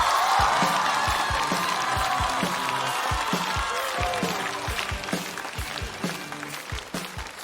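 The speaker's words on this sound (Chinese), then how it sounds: "掌声有请黑灯" A stand-up comedy audience applauds a comedian onto the stage, with dense clapping and some cheering that gradually thins out toward the end.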